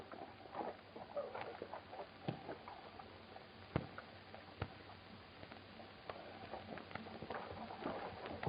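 Horse hooves clip-clopping as a radio serial sound effect for a Western, a faint, irregular patter of sharp hoof knocks at a steady walking pace with no one talking.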